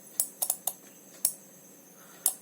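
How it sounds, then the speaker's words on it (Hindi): Sharp clicks from a relay module switching, six distinct snaps spread irregularly over a couple of seconds, close and fairly loud against a quiet background. "जैसे आप देख सकते हैं आपको क्लिक साउंड भी आ रहा है"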